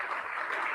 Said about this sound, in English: let's very- have a big round of applause for them.